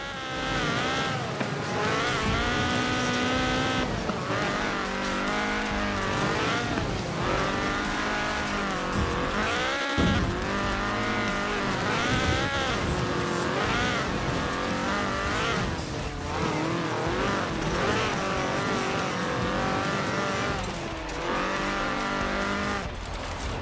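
A Ford Escort RS1800 rally car with a fuel-injected 1790cc Cosworth BDE engine roars through Forza Horizon 4, its loud revving rising and falling with gear changes and tire squeal, with no talk throughout.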